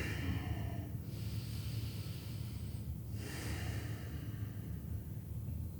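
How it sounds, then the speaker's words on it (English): Slow, close breathing during a beginner yoga practice at home, with two soft audible breath cycles against a low steady background hum and no speech. "Keep breathing."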